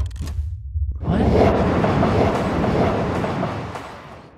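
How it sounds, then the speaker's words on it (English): A train rolling on rails in the video game Eastward: after a short quiet lead-in, a loud steady rumble of wheels and carriage noise rises and continues, close and dense, with faint rhythmic clatter. "Are we taking a train?"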